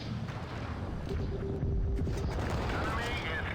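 Tank cannon fire in the mobile game World of Tanks Blitz: heavy shots and booms roll under a steady din of battle, with a continuous low rumble of engines beneath.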